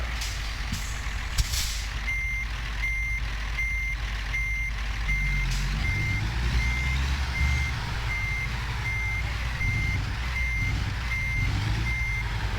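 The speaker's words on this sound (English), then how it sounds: "I'm going to try and line up to back into the yard because this is a difficult reverse" Steady reversing beeps from a truck in American Truck Simulator repeat evenly throughout, over a low diesel engine rumble, with a hiss of air brakes near the start.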